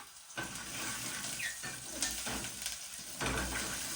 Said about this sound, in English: Our oil was hot, so we just place in our ginger.